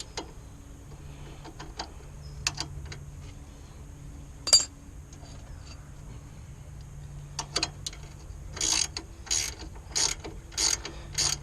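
Nut being tightened on a Ford Fiesta Mk6 outer tie rod end: scattered metallic clicks early, then a run of quick, evenly spaced ratchet clicks toward the end, close and moderately quiet, with no speech.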